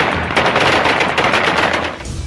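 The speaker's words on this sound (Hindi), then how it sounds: "तालिबानी आतंकियों ने काबुल एयरपोर्ट पर हवाई फायरिंग कर जीत का जश्न मनाया।" Celebratory gunfire shot into the air by Taliban fighters at Kabul airport, a loud, dense continuous crackle of automatic fire with no pauses and no voices.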